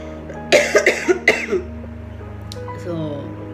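A burst of several quick, harsh coughs close to the microphone, followed by a quieter throat-clearing sound and a low steady hum.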